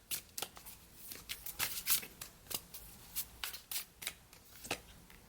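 A deck of tarot cards is shuffled by hand in a quiet room, a rapid run of crisp riffles and soft slaps coming in bursts, close and fairly quiet with no voices.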